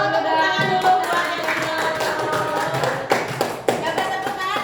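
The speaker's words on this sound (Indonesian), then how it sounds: "Tepuk tangan dulu." Scattered clapping from a classroom of students, a short burst of uneven hand claps with a few sharper taps, fairly close and steady throughout, with children's voices mixed in underneath.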